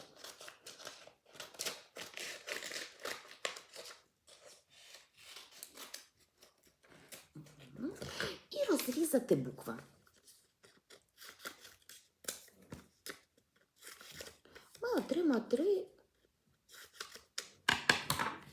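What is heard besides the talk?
scissors cutting a paper strip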